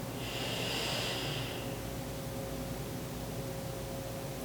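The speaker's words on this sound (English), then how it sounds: "Take another deep breath, inhale." A slow, deep inhale drawn in through the nose during a yoga breathing exercise, a soft airy rush that swells for about a second and a half and then fades into a quiet room hum.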